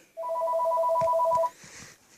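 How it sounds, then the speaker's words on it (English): A telephone rings with a steady electronic two-tone trill that lasts about a second and a half, loud and close. It stops abruptly, and faint background noise follows. "I don't know if you can see that phone's ringing."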